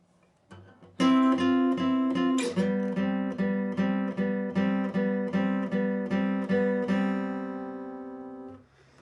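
A guitar plays the bridge of a song at full tempo, a steady run of evenly spaced plucked notes and chords, loud and close, ringing out alone before fading at the end.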